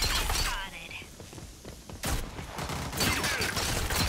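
Shotgun fire in an online multiplayer shooter during an objective match: heavy, loud blasts and bursts of gunfire hit close over busy game noise, with a voice faintly in the mix.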